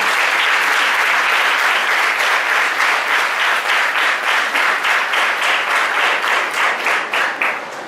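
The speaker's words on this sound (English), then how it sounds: "welcoming you by giving a thunder of applause to you" Audience applause at an international college of education conference, a sustained full-room ovation of dense clapping that holds steady for about eight seconds and tapers slightly at the end.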